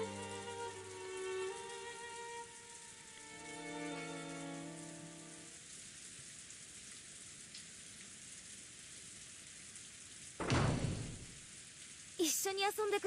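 Steady rain pattering in the Umineko visual novel game, a soft continuous hiss mixed with sustained background music tones, with a louder gust of noise near the end and faint speech.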